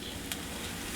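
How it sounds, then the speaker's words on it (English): Peppers and onions fry in hot pork lard, giving a steady, close sizzle and crackle with no pauses. "I'm going to start by frying and softening up the peppers and onions."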